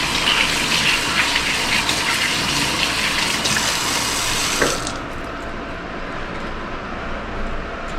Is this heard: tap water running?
yes